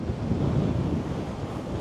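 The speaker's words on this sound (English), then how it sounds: "So it's windy and it's rugged. Really windy here." Strong wind buffets the microphone in a loud, steady low roar on a rugged beach in Northern Norway, with the rumble of surf mixed in beneath it.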